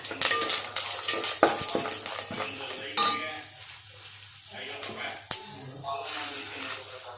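Cumin seeds hit hot oil in a pan while making a sesame chutney, giving a steady crackling sizzle broken by sharp spoon clinks and scrapes against the metal, close and continuous.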